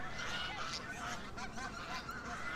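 Ducks squabble on a river in Heidelberg, Germany, a continuous jumble of honking, nasal quacks at moderate distance, fairly soft and overlapping without pause.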